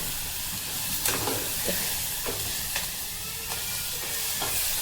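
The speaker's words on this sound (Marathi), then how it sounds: "असे व्यवस्थित सगळं छानपैकी आपल्याला ह्या तुपात फ्राय करून घ्यायचं आहे." Whole spices and bay leaves fry in hot ghee with a steady, close sizzle and hiss, broken by several scraping stirs of a spoon in the pan.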